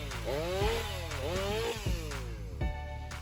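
A Stihl MS 500i chainsaw cuts through large wooden logs, its engine revving up and down in repeated rising and falling surges, fairly close and steady.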